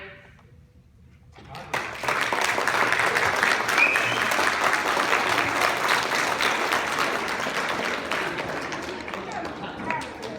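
Audience at a mock trial scene in a Big Bad Musical rehearsal bursting into loud, sustained applause after a quiet moment, dense clapping continuing steadily before easing slightly at the end.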